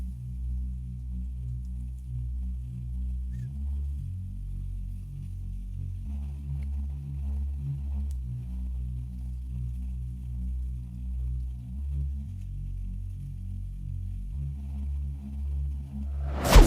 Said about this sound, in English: This sound was gotten from a plugin called the Spiral plugin, and we're using a preset called Be a Beautitude